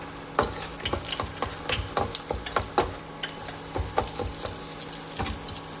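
Nuts tossed into hot oil alongside chopped garlic, frying with a steady close sizzle broken by repeated sharp clicks and scrapes of stirring, no talking.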